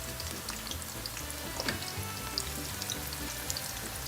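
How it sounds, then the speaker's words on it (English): Diced aubergines fry steadily in hot olive and sunflower oil, a dense, even sizzle with a few faint crackles and pops, close and continuous throughout with no talking. "It needs to fry."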